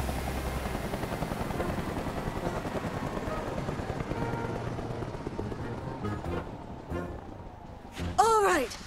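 A cartoon aircraft comes in to land with a steady, loud helicopter-like rotor and engine drone throughout, easing off near the end before a brief burst of whooshing, chirpy effects; voices talk over it.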